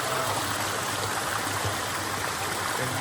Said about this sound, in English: It's the tunnel for the brook to run through underneath what used to be the rail bridge.